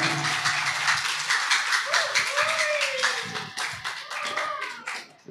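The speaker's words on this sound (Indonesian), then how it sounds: "Kita kasih tepuk tangan dulu untuk Gus Abdul Bihar" Audience of students at a school outreach talk applauds to welcome a speaker, steady clapping throughout with voices mixed in.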